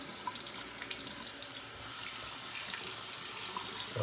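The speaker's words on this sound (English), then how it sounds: "adding a little bit of water" Tap water runs in a steady, close splashing stream into a sink during a wet shave with a Rockwell razor, continuing alone without a break.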